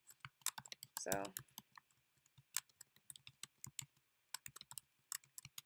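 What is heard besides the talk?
computer keyboard typing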